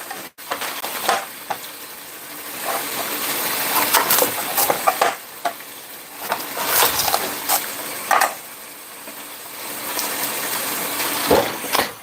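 Kitchen tap running while cottage pie is being made, a continuous splashing gush that swells and dips with clatters of items being rinsed, close and fairly loud.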